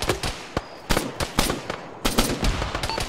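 Machine gun fire in a ShackTac military shooter game, several sharp close bursts and single cracks in an irregular rapid rhythm, loud and without talk.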